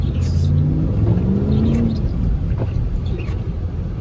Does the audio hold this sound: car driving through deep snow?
yes